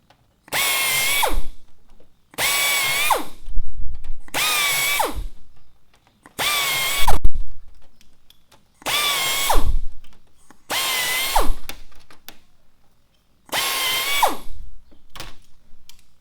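A power drill whines in seven short bursts, each spinning up and biting through metal with a number 40 bit, drilling rivet holes in a Cessna 140 fuselage, separated by brief pauses, loud and close.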